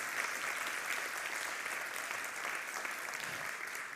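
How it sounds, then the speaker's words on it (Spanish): A church congregation applauds steadily, a dense, continuous wash of clapping from many hands that holds at an even level throughout. "dele fuerte entonces el aplauso para el Señor"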